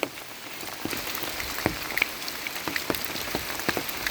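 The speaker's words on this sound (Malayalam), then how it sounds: "നല്ല സൂപ്പർ മഴ പെയ്തുകൊണ്ടിരിക്കുകയാണ് ഇവിടെ" Heavy rain pours steadily on a forested rural property, a dense even hiss with scattered sharper drops striking nearby surfaces, no voices.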